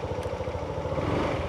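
A Honda automatic scooter-style motorcycle engine runs steadily up close, a continuous low throbbing idle with a slight mechanical clatter and no talking over it.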